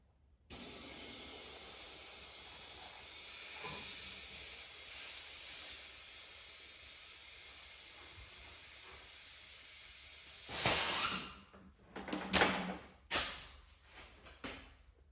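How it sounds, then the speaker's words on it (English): An air compressor blows into a tubeless fat bike tire with a steady, close, bright hiss lasting about ten seconds, then a few louder short bursts of air as it stops and restarts. "I'll go hit it with the air compressor again and seal it up one more time"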